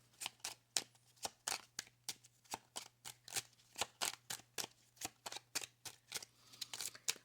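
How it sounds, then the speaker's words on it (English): Tarot cards shuffled close up in a quick, steady run of crisp riffling bursts, about three per second, over a faint low hum. "I wanted to just really shuffle really well"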